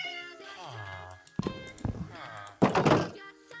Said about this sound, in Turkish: Lan burada da mı kedi var?